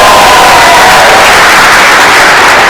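An interactive crowd at the MPI Adjust-a-thon at Cleveland University cheers and claps in a loud, dense, continuous roar of applause and shouting that fills the room.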